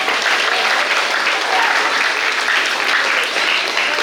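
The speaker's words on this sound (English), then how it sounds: "So please give those unsung heroes a round of applause," A school audience claps steadily through an eighth grade commencement ceremony, producing a dense, continuous wash of loud applause with no pauses.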